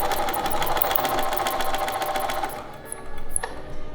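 A sewing machine stitches steadily along a marked line on fabric, a fast even whir that runs close and loud for most of the moment before the needle stops and faint mechanical ticks remain.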